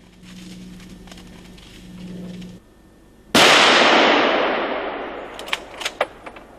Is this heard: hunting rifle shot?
yes